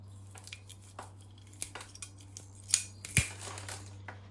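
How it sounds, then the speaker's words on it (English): Ratcheting pruners cut through a larch bonsai root with one sharp, close snip, preceded by light ticking and handling noises. "For this I'll need my ratcheting pruners."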